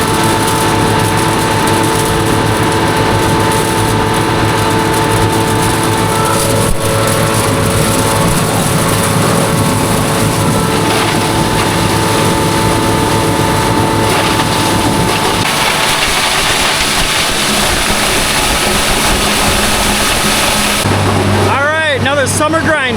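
A loud, steady engine runs on a farm while corn is ground, a continuous droning hum with mechanical whine throughout, shifting near the end as something clatters and sweeps.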